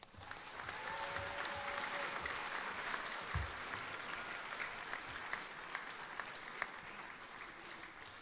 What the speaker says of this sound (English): Please join me in a round of applause for Alpha Company